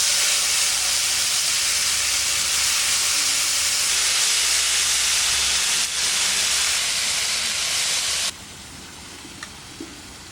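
Marinated prawns fry in a little oil in a kadai with a loud, steady sizzling hiss close by. The hiss drops noticeably softer near the end.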